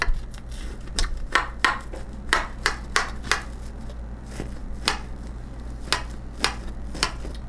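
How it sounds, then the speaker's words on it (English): An old, dull steak knife cuts through a southwestern casserole in its dish, producing a steady series of sharp, close tapping knocks against the bottom, roughly two per second, over a low hum and with no talking. "I'm going to go ahead and cut. I think I'm going to cut this."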